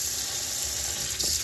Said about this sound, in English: You put a little bit of water in there.